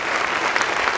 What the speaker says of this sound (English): give a round of applause to our panel today